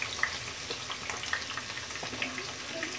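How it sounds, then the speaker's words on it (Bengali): Bay leaves, cardamom and cinnamon frying in about a cup of oil, a faint, steady crackling sizzle with small pops throughout. "এই যে দুইটা তেজপাতা আর তিনটা এলাচ আর একটা দারচিনি, এখন এগুলো একটু ভেজে নিব"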